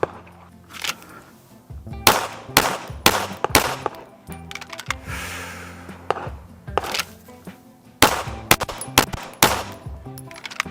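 Pistol shots during a USPSA draw drill fired as two-shot pairs: sharp, loud reports in quick doubles spread across the clip, each followed by brief ringing, with quiet gaps between strings and no talking.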